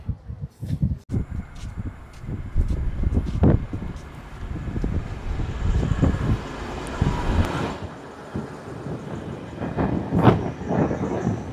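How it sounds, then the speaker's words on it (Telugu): A train arriving at a station platform in Melbourne rumbles and rattles steadily close by with a rolling, clattering roar and brief screeches, persisting throughout without talk. "మన ట్రైన్ అయితే వచ్చేసింది."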